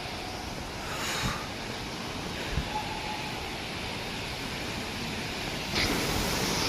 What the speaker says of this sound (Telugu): ఫైనల్లీ వాటర్ ఫాల్స్ దగ్గరికి చూస్తాం.